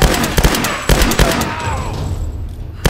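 Rapid bursts of gunfire crack and rattle in Tomb Raider (2013) on PC, loud and close, with dense repeated shots around a brief lull.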